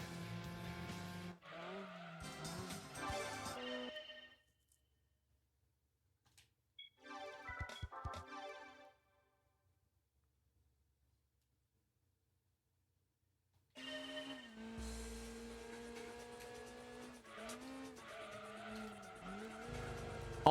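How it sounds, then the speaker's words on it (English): Car drifting in Gran Turismo 2, engine whine and squealing tires in loud bursts, then a stretch of near silence before a long sustained skid and engine note return. "Oh my god, what a drift!"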